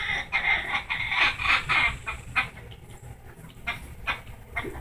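A chicken clucks in a run of bright, repeated calls, loud and near, with scattered squawks and a quieter stretch of softer clucking afterward.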